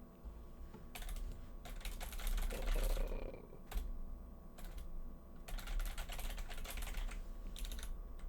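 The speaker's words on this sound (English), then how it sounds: "Now I'm going to type some stuff out so you can hear what it sounds like." Fingers type on a computer keyboard in quick, soft clicking bursts separated by short pauses, close up and quiet, with no talking.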